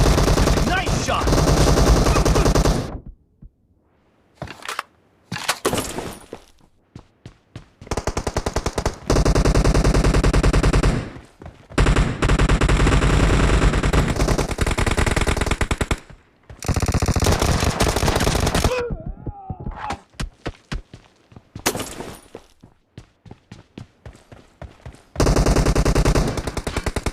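Bursts of automatic gunfire from the PUBG battle royale game, loud rapid volleys broken by short silent gaps, with some voice-like game announcements mixed in.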